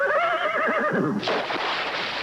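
A horse gives a loud, close whinny with a wavering, falling pitch lasting about a second, followed by a breathy snort-like rush of noise.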